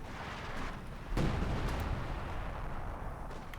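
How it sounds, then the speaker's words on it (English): An artillery strike lands in Company of Heroes 2 on an MG42 position, a sudden heavy boom just past the one-second mark followed by a rumbling, crackling tail over a low battlefield din. "pops an artillery strike here on the MG42 position"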